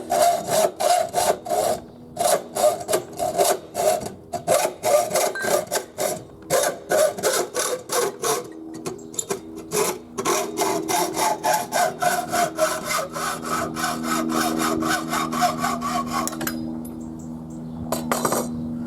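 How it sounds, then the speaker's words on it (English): Rhythmic back-and-forth rasping of a hacksaw cutting through pipe, long even strokes close by, slowing and changing tone near the end. "we can start doing nice, gentle sawing action"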